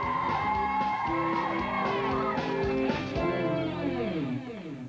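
An audience cheers and whoops loudly for a performer being introduced on a comedy show. The shouting and crowd noise stay dense and continuous throughout, then ease slightly toward the end.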